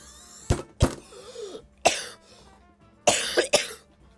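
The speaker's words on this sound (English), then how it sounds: "I literally had this entire coughing fit for like no reason." A close coughing fit: several sharp, harsh coughs arrive in uneven bursts, with short wheezy breaths and throat sounds between them.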